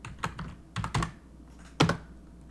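Several bursts of keystrokes on a computer keyboard, quick clicks in small clusters with short pauses between them, close and clear.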